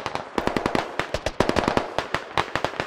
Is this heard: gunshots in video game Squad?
yes